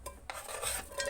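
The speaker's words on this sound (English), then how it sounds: "I'll put my onions here." Chopped onions tipped into a cooking pot for an egg curry, a few short scraping clatters and a soft sizzle, close and quiet with no talking.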